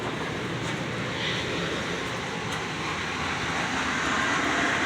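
An Amtrak train in motion at a New York City station gives off a continuous, loud, broad rumbling roar with steady mechanical noise and no break, and no voices can be heard over it.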